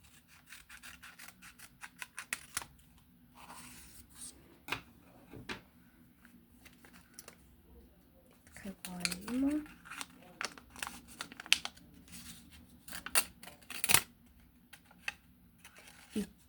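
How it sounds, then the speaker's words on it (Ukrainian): Scissors snip paper stickers in short crisp cuts with crinkling and rustling of paper sheets, close up, while someone talks intermittently. "тут треба обрізати ножицями"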